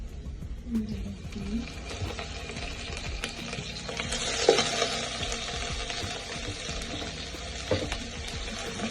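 Chicken pieces frying in a pan with onions browned to a golden colour, a continuous close sizzle with stirring scrapes and clatter, swelling briefly midway, with some faint background noise.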